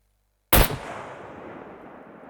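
A single loud sniper rifle shot cracks after a moment of silence in the video game SCUM, fired at a turret, its echo rumbling and fading away slowly.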